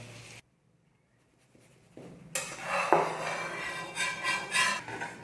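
An omelette is slid from a pan onto a plate, brief near scrapes and clinks of utensil and dish building after a quiet start, with steady kitchen clatter toward the end.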